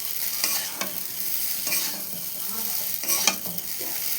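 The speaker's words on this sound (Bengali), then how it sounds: "দেখো ম্যাগি মশলা ছড়িয়ে দিয়েছে, এই যে নাড়িয়ে নিচ্ছে" Egg pasta tossed with Maggi masala in a pan gives a soft continuous sizzle, with periodic scraping stirs that swell and fade every second or so.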